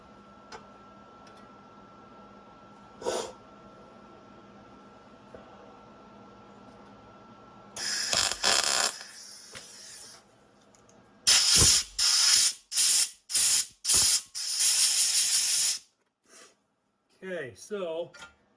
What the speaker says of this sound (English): So I am at the lowest setting I can be on my welder.